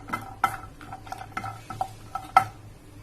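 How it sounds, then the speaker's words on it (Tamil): Cashews dry-roasting in a pan without oil, stirred with a spoon: a series of sharp scraping and tapping strokes against the metal, close by, with only a faint sizzle beneath. "முந்திரி நல்லா வறுத்து எடுத்துக்கோங்க,"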